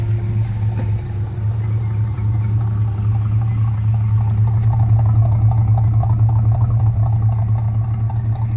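A cold Chevy C10 truck engine idles steadily and loud up close with a deep, even rumble and faint rhythmic ticking, with no talking over it, and a steady electric fuel pump runs somewhere underneath.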